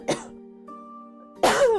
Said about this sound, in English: Let me cough one more time.